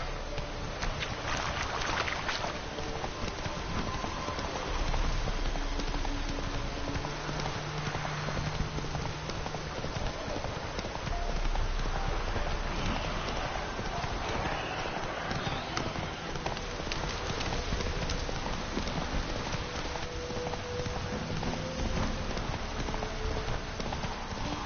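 Roach the horse gallops across open ground in The Witcher 3, a steady run of hoof clip-clops that carries through the whole stretch under ambient game music and environment sound.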